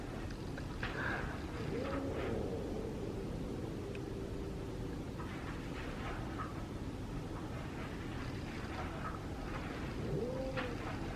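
A cat named Boo growls low and continuously against a steady hiss of background noise, with a few faint higher yowls rising now and then.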